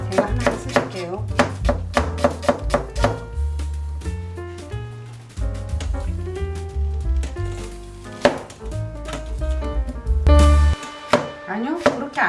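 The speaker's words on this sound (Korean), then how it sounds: "양파 썰기 한번 해보겠습니다." A knife slices onions on a cutting board for cucumber kimchi, giving quick repeated chops in uneven runs with brief pauses. Tonal background music plays underneath throughout.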